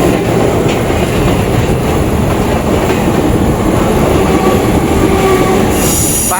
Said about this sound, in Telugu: పాట్లీపుత్ర సూపర్ ఫాస్ట్ ఎక్స్ప్రెస్ అండి